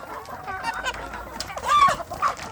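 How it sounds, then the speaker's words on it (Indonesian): Kampung chickens and a rooster make a few scattered clucks and squawks of varying loudness over a quiet farmyard background. "anak ayam kampung yang jantan ya."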